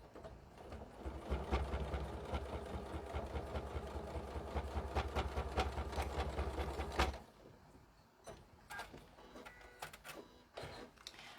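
Sewing machine stitching through a fabric Yazzii bag, a steady loud mechanical whir for about seven seconds, then stopping, followed by quieter handling clicks and rustles.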